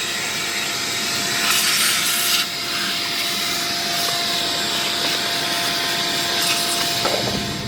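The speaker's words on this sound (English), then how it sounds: "Vacuum it out." A steady, loud vacuum whooshing runs throughout with a constant airy roar and a faint high whine, no talking.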